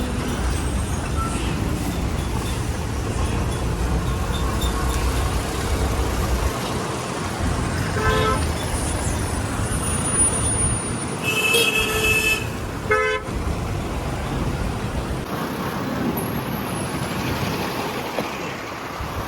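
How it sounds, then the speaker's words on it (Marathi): Heavy road traffic near Uran with buses and cars rumbling past, loud and constant, while several car horns toot in short bursts and an air brake hisses. "काय ट्रॅफिक आहे."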